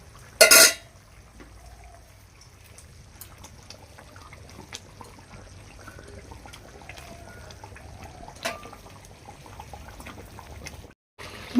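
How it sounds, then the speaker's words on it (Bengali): Thick bhetki fish rezala gravy simmering in a pan, soft low bubbling and gentle popping with a sharp clatter near the start and a faint knock later, no talk. "বন্ধুরা দেখুন, গ্রেভিটা খুব সুন্দরভাবে ফুটছে"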